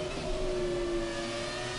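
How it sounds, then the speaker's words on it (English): Formula 1 race car engine in the F1 2017 video game, a steady high-pitched whine held at constant revs for the whole stretch, loud and continuous with no talk. "listen to the sound of this car"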